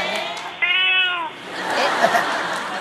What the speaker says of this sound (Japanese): するとその時、猫はしゃべったのです。